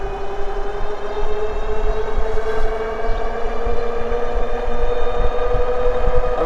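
A HeyBike Ranger S folding eBike on throttle alone gives a steady electric motor whine with a rising tone over constant road and wind rumble, continuous and close for the whole stretch.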